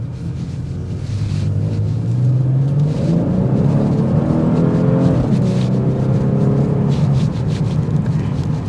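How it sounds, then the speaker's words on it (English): Steady low road noise and engine hum inside a 2024 Genesis G70 3.3T sedan while driving, a continuous muffled rumble with faint tire roar and no talking. "you're going to hear some road noise filter in, but for the most part, pretty quiet"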